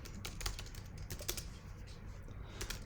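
Quiet, rapid keystrokes tap on a computer keyboard in uneven bursts, faint and close, with no talking over them.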